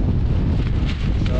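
Strong wind roars and buffets the microphone continuously, a loud low rumble with gusty swells and no voices.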